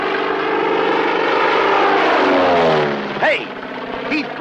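A propeller-driven plane in a 1941 Army flight-training setting roars loudly and steadily for about three seconds, then drops away as brief voices break in near the end.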